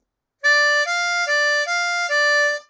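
Blues harmonica drawing on holes 4 and 5, alternating between the two notes in a slow sequence of four sustained reedy tones, clear and close with no other sound.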